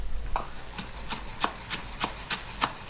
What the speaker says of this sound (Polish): No i kroimy sobie szczypiorek.